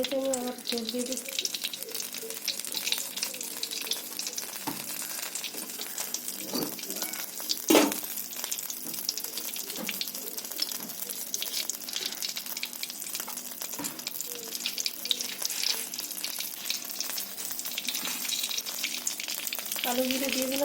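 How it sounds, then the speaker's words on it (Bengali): Oil sizzles and spatters steadily in a wok during home cooking of a fish curry with potatoes and tomatoes, a continuous close frying hiss with a few sharp crackles and clinks. "কড়াইতে আমি আবার তেল দিয়ে দিচ্ছি"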